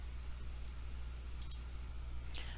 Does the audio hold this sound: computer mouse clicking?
yes